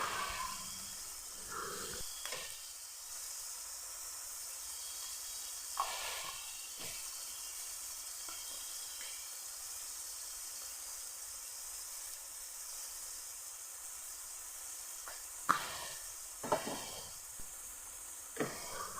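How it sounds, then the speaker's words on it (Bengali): Vegetables frying in oil for a chicken-style dish give a soft, steady sizzle and hiss that holds throughout, fairly faint and close, with a few brief clatters near the end. "তাই এটাকে ভালোভাবে ভেজে নেব তেলে।"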